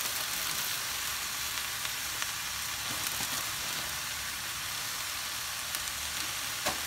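Carrots and yellow peppers sizzle steadily in a frying pan, a close, even crackling hiss with small pops throughout and no voices.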